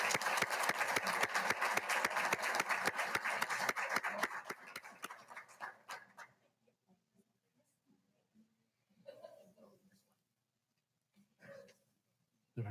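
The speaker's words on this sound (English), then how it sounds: "How about another round of applause?" Applause from a board meeting audience, dense steady clapping for about six seconds that thins out and fades, followed by faint scattered sounds and brief voices.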